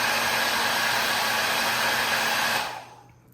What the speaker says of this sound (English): you could always use the hairdryer to warm it up again